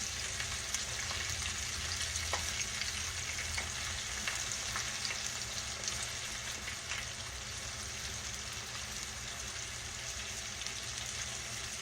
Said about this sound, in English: I'm frying mine in lard in case y'all want to know what I'm frying it in.